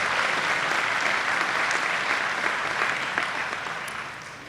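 An audience at a Metro South Chamber annual meeting gives a warm round of applause, a dense, even wash of clapping that holds steady and then tapers toward the end.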